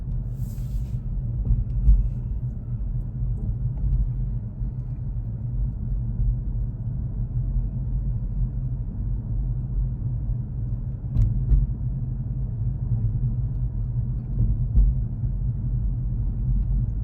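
A tuned car rolls slowly through a residential neighborhood, its low engine rumble steady and close throughout with no talking.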